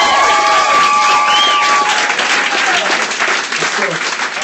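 Loud, close audience clapping and some cheering at a comedy roast tournament, a dense sustained burst with a few whoops at the start, gradually easing.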